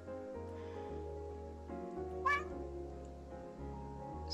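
A cat in the video game Calico lets out a single short meow over a soft, steady bed of game music.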